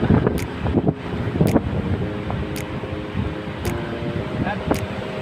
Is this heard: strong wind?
yes